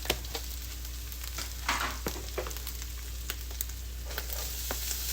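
Cold rice is stirred into a pan of frying ginger, onions and garlic for chicken fried rice, giving a steady close sizzle broken by scattered scraping clicks of the utensil.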